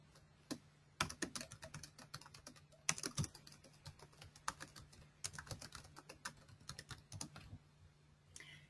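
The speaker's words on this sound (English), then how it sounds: "I'm hitting Control and I'm selecting with my right click on my mouse" Typing on a Windows computer keyboard with mouse clicks during a writing-software demonstration, a quiet, irregular patter of key taps, some in quick bursts and a few sharper clicks, close by with no talk.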